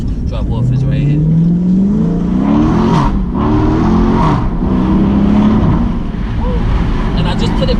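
A 2017 Daytona car revs hard through its gears in track mode with paddle shifters, loud and close, with crackling exhaust blowback on each lift and a voice talking underneath.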